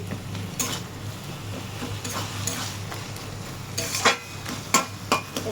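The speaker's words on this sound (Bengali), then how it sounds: "এইভাবে নাড়তে থাকতে হবে" A hilsa fish head cooks down with taro greens in a kadai as a spatula stirs and scrapes steadily over a low sizzle, with sharper metallic knocks against the pan toward the end.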